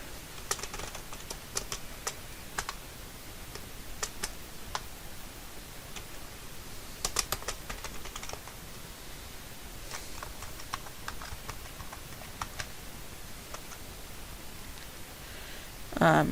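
Someone types on a computer keyboard while filling out a form, making quick irregular clusters of light clicks with short pauses, fairly close and fairly quiet, with no talking.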